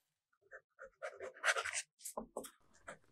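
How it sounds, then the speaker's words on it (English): A fountain pen with a fine nib scratches across the paper of an AmPad Steno notebook in short, quiet, close strokes separated by brief pauses. "The next writing sample is done in an AmPad Steno notebook."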